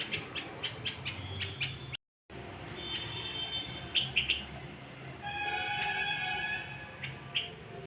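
A small bird visits a home to eat sugar drops. Faint, thin chirps and tweets come in quick bursts against quiet indoor room noise, with a brief gap and then a longer run of high trills.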